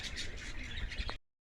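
Several birds chirp and squawk in quick repeated calls at a pigeon toss point beside St. Andrew Park Church, moderately close, before the sound cuts off abruptly.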